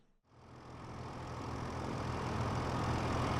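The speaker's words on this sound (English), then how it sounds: "Sorry, it's a bit noisy. I'm just warming up the tractor." A tractor engine warms up in the Farming Simulator 25 video game on a Montana ranch. After a brief silence it starts with a low, steady rumble that grows gradually louder and holds, with no talking.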